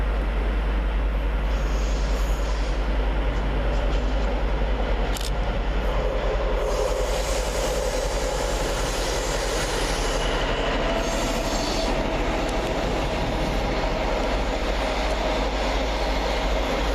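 Class 43 HST power cars 43046 and 43055 in Midland Pullman livery pass through Reading station, a loud, steady roar of engines and rolling wheels with rail squeal and some clatter throughout.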